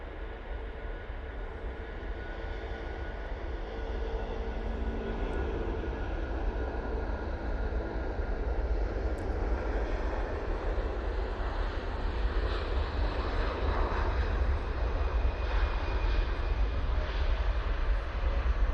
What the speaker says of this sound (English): And there goes that Jet2. Beautiful departure.